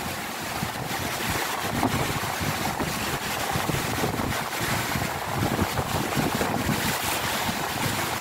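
Strong wind buffets the microphone over big waves on a lake in bad weather, a steady loud roar of gusts and rough water with no voices.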